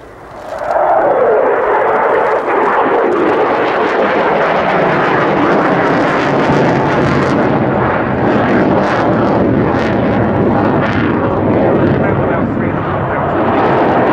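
A US Navy F/A-18F Super Hornet jet at the RIAT 2014 airshow roars past loud and near, a thick continuous engine rumble and hiss that swells quickly and holds steady.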